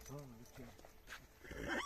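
Belgian draft mares brought over from Poland stand on asphalt, giving a whinny and a few hoof clops while people talk close by.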